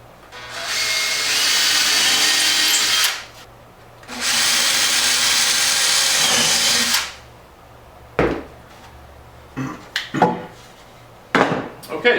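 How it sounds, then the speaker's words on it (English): A power drill whines loudly in two long bursts through wood, followed by scattered knocks and clattering of tools being handled. "now I can go ahead and drill the holes through the rest of the way"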